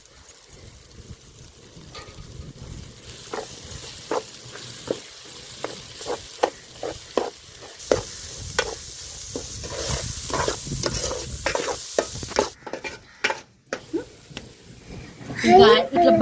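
A spoon stirs garam masala, ginger, coriander, coconut and garlic as they fry in a pan. Scraping strokes come in a steady rhythm over a soft, continuous sizzle, and a voice talks throughout.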